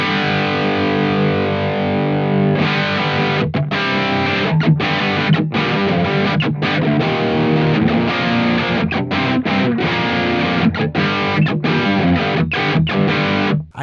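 Electric guitar played through a Blackstar St James EL34 tube amp on its balanced 4x12 cabinet preset, giving a loud, thick distorted tone of sustained chords cut by short rhythmic stops, with no voice.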